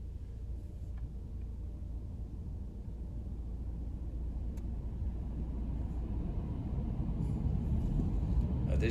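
A car drives through a road tunnel in Tröllaskagi, Iceland, giving a steady, enclosed rumble that slowly grows louder across the stretch, with no talking.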